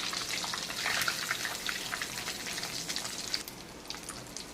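Whole spices such as black peppercorns, bay leaves and a dried red chilli fry in hot oil with a steady close crackling sizzle and scattered sharp pops, no voices.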